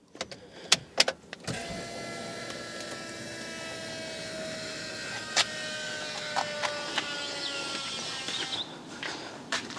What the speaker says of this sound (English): how loud the new pre-supply pump is, so let's turn the ignition on